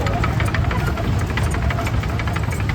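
A 1963 International 660 diesel tractor runs close by in a parade at a historical engine show, its loud steady knocking diesel throb filling every moment without pause.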